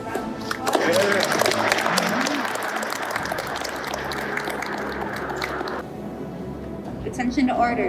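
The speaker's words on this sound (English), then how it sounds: "Let's give them a round of applause." An audience at a military promotion ceremony applauds in a sustained burst of clapping that swells and then tapers off, with voices talking over it.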